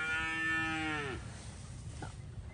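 A cow lets out a single long, low moo lasting about a second before it cuts off, followed by quiet background noise.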